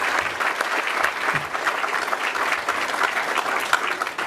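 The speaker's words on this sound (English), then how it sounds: "a round of applause, please," An audience at an open source awards event gives a steady round of applause for a Linux user group, dense clapping from a crowd in a hall.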